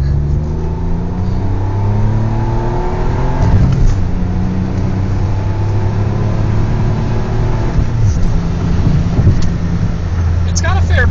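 A Pontiac G6 with a six-speed manual cruising in fifth gear, its steady engine drone and road rumble running loud and continuous under someone talking throughout.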